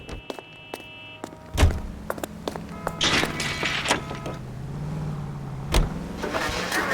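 Car interior sounds while driving in L.A. Noire: a sharp door thunk, clicks and a low engine hum that swells steadily, with another solid thump near the end.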